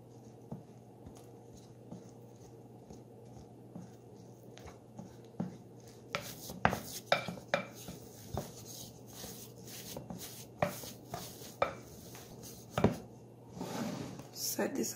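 Almond flour keto pizza dough is mixed by hand in a bowl, faint soft rubbing at first, then irregular close scrapes and knocks of a utensil against the bowl.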